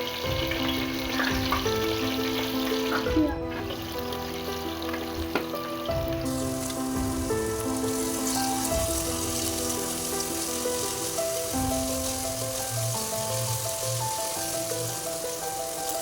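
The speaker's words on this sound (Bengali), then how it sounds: "পেঁয়াজটা একটু লাল করে ভাজা হবে।" Onion frying in oil with whole garam masala, cloves, cinnamon, cardamom, bay leaf, a dried chilli and sugar, giving a steady loud sizzle throughout with no talking.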